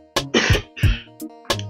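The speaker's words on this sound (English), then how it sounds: "Got a little cough I can't get rid of" A man coming off a cold coughs several times in quick succession, harsh, throaty bursts close to the microphone with short pauses between them, without any talking.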